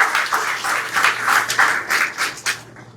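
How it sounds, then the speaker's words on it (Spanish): An audience at a public forum on evictions in Indigenous territories gives a brief, moderately loud round of clapping that fades out after about three seconds. "damos un aplauso para reconocer el trabajo, ¿verdad?, de la comunidad."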